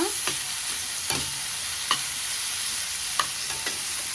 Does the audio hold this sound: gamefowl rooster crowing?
no